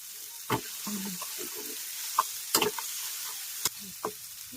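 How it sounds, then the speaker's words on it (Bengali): Tomato, salt and spices being stir-fried into masala for paneer bhurji, a spoon scraping and stirring the pan in occasional clanks over a faint low sizzle. "কষা মশলাটাকে ভালো করে কষা হচ্ছে"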